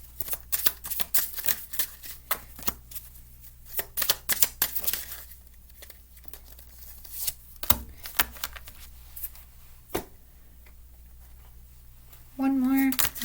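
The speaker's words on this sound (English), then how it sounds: "Usually I get stuff when I'm shuffling." Tarot cards shuffled by hand, a run of quick crisp riffles and slaps in irregular bursts, louder early and sparser later, with a brief tonal sound near the end.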